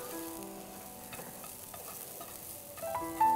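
Cauliflower frying in ghee in a pan, a steady soft sizzle with occasional stirring scrapes and faint clinks, heard alone at low volume.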